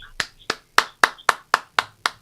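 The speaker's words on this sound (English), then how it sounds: "give him a big round of applause" A few people give slow, separate claps for a podcast guest. There are eight distinct claps at an even pace, close and fairly loud, with quiet gaps between them and nobody talking.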